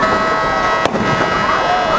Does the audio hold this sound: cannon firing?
yes